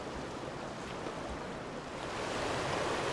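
Steady rushing water from a remote brook in brook trout country, a broadband wash that swells slightly louder toward the end, with no voices over it.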